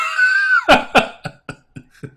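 A person coughs several times in a row: one strong, close cough after a drawn-out vocal sound, then a string of weaker coughs fading out at an uneven pace.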